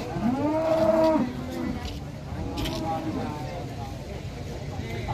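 A cow moos loudly and close by at a cattle market, one long drawn-out call followed by a softer second low call, with general market background noise.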